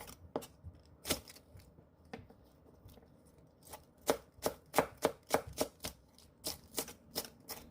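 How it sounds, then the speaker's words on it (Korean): A knife cuts green onion into long thin strips on a board: crisp, close taps, scattered at first, then a quicker run of rhythmic cuts, with quiet pauses between bursts. "대파 조금을 길게 채 썰어 주세요."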